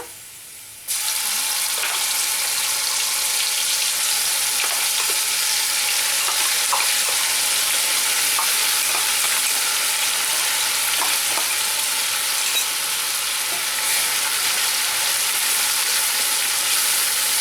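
Spice paste lands in a pan with fried onions for Katla fish curry, and a strong, continuous hiss of frying starts almost at once. It holds steady and close for the rest of the clip, with faint clicks and no talking.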